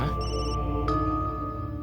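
A mobile phone rings with an electronic ringtone, a steady sustained tone with a couple of brief higher chimes laid over it, loud and close in an indoor room.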